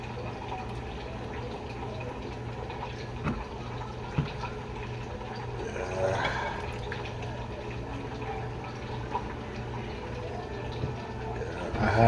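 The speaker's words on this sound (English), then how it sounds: "I had to pour out some of the sauce." Sauce is poured out of a bean container indoors: a quiet, wet pouring and trickling over a steady low hum, with a slightly fuller splash partway through.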